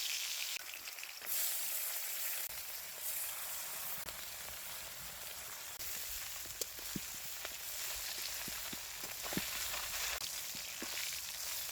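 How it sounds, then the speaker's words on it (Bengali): A hilsa fish head frying in hot oil in a wok gives a steady, close sizzling hiss with scattered small pops and crackles throughout, and no voices. "ইলিশ মাছের মাথাটা ভাজা হয়ে গেছে"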